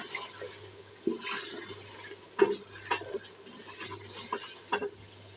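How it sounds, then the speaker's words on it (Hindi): Chicken sautés with simple spices in a pot. A soft frying hiss sits under several distinct scraping stir strokes from a spoon, each one close and fairly loud, and no one speaks. "हमारी चिकन की हो रही है भुनाई"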